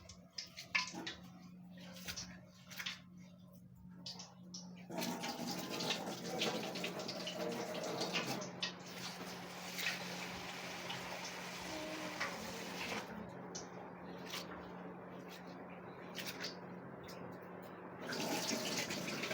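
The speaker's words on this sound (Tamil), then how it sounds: "நல்லா அரிசி கழுவிடணும்." Rice being washed by hand in a home kitchen, with steady running and swishing water from a tap, a continuous close wash that eases off partway through before swelling again toward the end.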